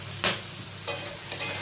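Garlic, ginger, tomato and chilli fry in a pan for a restaurant-style chicken makhani paste. A steady sizzle runs throughout, broken by three brief scraping stirs, with no voices.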